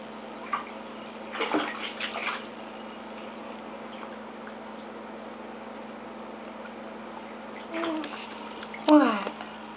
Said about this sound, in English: Are you splashing?